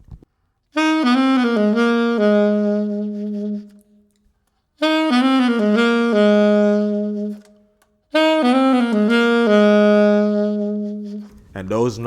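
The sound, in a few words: saxophone run before chorus of a song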